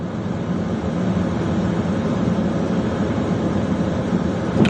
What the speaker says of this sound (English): Sounds like it's potentially the semi trucks up ahead